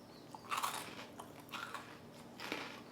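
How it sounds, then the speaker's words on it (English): Three crisp crunches from biting into a pot roast sandwich with cheese and creamy soup, spaced about a second apart, close and fairly quiet with no talk. "Listen for the crunch."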